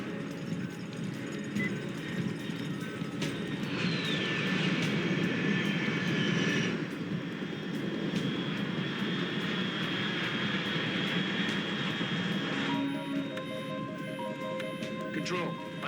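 A fast aircraft flies overhead in the Metal Gear Solid Delta: Snake Eater video game, a steady engine roar with a rising whine that holds for several seconds, laid under game music and ambience.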